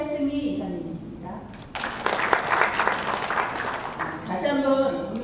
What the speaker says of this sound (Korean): 다시 한번 오늘 심사를 맡아주신 심사위원분들께 큰 박수로 환영해 주시기 바랍니다